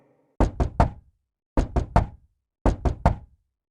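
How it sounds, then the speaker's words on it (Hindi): Three bursts of knocking on a gate in an animated cartoon, each a quick triple rap, sharp and close with short pauses between groups, no voices. "उसे गेट बजाने की आवाज आती है"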